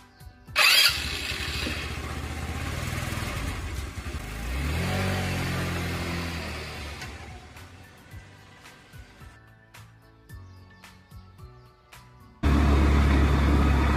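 A motorcycle engine starts with a sharp burst, then idles and revs as it pulls away, the engine note rising and fading during the ride before a loud steady roar of wind and engine near the end; no talking.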